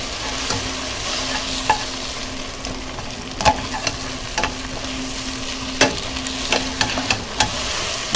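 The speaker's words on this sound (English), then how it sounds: "So I'm going to finish frying my eggs real good." Eggs sizzle steadily in a frying pan while a utensil stirs and scrapes with scattered clicks and taps, close and fairly loud, no talk.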